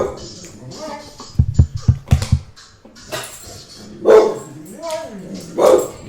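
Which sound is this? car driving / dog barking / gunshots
dog barking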